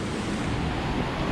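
The Sisuwa river rushes in a steady, dense roar along a forest trail on the way to Kaikok waterfall in Silichong, a continuous wash of flowing water with no breaks.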